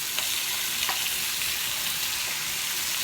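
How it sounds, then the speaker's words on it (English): Bacon sizzles and crackles steadily in a hot pan, a dense continuous hiss with scattered small pops, close and fairly loud with no talking. "when I get this bacon in"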